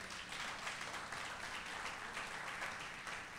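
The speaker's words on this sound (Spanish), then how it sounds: "¿Cuánto le dan un aplauso al Señor?" A church congregation at a Sunday service claps steadily together in a continuous, even wash of applause filling the room, with no speech over it.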